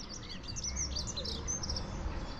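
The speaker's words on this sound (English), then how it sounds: "There's a lovely little robin singing away up in the tree there." A robin sings high, twittering phrases from a tree over a steady outdoor rumble by the Monmouthshire and Brecon Canal locks at Llangynidr in March, fairly faint and at a distance.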